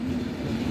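A MEMU express train pulling out of Anakapalli gives a steady low rumble with a sustained mechanical hum, heard briefly and without talk.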